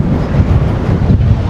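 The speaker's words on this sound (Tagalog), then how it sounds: "Lumalakas yung hangin." Strong wind buffets a microphone on a ferry deck, giving loud, gusty low rumbling and hiss that rises and falls throughout with no speech.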